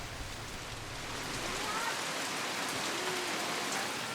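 Heavy tropical rain pouring down on an Indonesian stilt-house village of Bajau sea nomads, a steady dense hiss of drops on surfaces with no break from start to finish.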